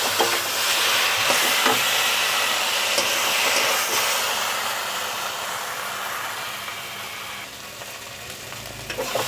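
Bitter gourd and potato curry with a mustard, cashew and green chilli paste sizzles steadily in a pan while being stirred, a continuous bright frying hiss with occasional faint scrapes, gradually easing off toward the end.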